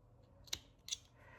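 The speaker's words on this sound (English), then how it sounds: "I'll just take my scissors and try to get as close as I can" Two crisp scissor snips trimming frayed crochet yarn strings on a fitted hat, spaced about a third of a second apart, close and fairly quiet with no talking.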